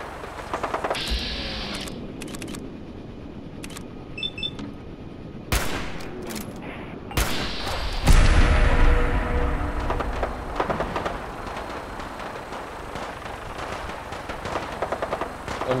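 Gunfire in Fallout 4 with scattered single shots, then a long stretch of rapid automatic bursts and heavy impacts over steady background rumble, loud and continuous through the second half.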